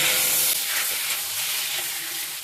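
Prawns coated in salt and turmeric sizzle steadily in hot mustard oil in a pan, a loud, continuous bright hiss that eases off slightly over its length, with no talking.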